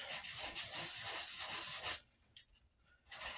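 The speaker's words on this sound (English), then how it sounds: "sand around the affected area here" Sanding on a gel coat fiberglass bathtub around a damaged spot, a steady close abrasive rubbing that runs continuously, then stops and leaves a few brief scuffs and quiet gaps.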